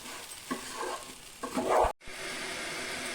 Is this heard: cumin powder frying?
yes